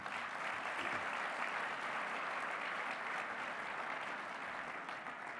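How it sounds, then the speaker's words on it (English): Audience applause for a returning co-host at an athletics awards presentation, a steady broadband wash of clapping sustained evenly across the whole stretch at moderate loudness. "How about a round of applause for him?"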